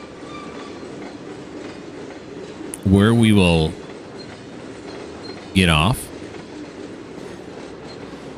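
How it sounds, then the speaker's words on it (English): A train rolling past in the Trainz 2022 railway simulator, a steady rumbling roll with two loud horn blasts, one long and one short, while someone talks briefly over it. "Wait for the train to pass."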